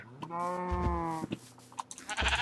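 A single sheep in the video game Minecraft gives one drawn-out bleat, close and clear, followed by a few soft clicks and game noises.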